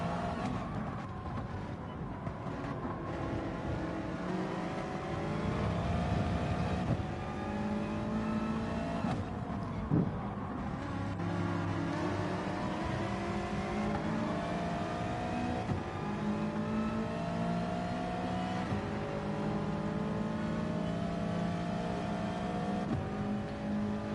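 Race car engine in a racing game on the Fuji short circuit, a loud continuous drone that climbs in pitch through repeated gear changes and sustained revving, with a second car heard nearby.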